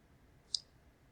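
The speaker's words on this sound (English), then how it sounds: "To read the full article, I'm going to click up on the PDF here on the left." A single sharp computer mouse click, close and quiet, in an otherwise still room while opening a PDF of a scholarly article.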